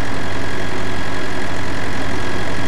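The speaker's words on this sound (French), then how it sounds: "comme c'est vraiment un petit moteur et tout, hein, il va qu'à 20 à l'heure" A small engine on a Bobcat skid-steer loader runs loud and steady at close range, a constant low idle-like drone with a faint tonal hum and no voices.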